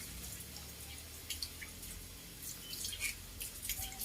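Water splashing and dripping while a puppy is bathed, soft irregular trickles and drips, close and quiet, with no talking.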